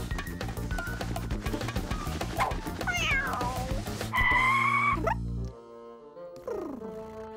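In a cartoon, a cat meows amid a busy, cluttered soundtrack with thumping hits, followed by a loud sustained yowl and a later falling cry near the end.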